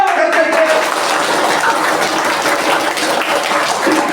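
Audience clapping at a school health awareness program, a dense, steady burst of applause from a crowd, loud and close throughout the short stretch.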